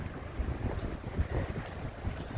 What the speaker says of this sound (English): The wind is rowdy here though. It blows.